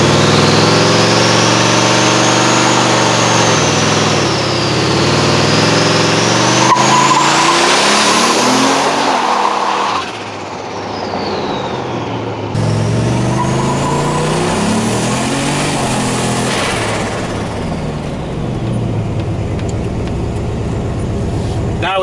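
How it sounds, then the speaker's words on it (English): A car launches hard in a parking lot, its engine roaring up through the gears with rising revs, tire squeal and gear-change dips, loud and close from start to finish. "we're going to actually go around the corner and just launch it in a parking lot real quick."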